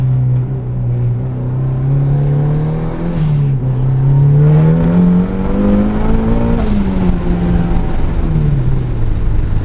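A turbocharged Mazda Miata engine drones loudly and close, its pitch climbing and dipping through revs, with a rough, buzzy exhaust note.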